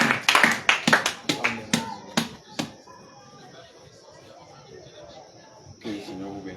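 A church congregation claps to acclaim the Lord: a burst of sharp, irregular handclaps close by, thinning into scattered claps and then a quiet room tone, with one more soft clap near the end.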